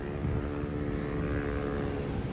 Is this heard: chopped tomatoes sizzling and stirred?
no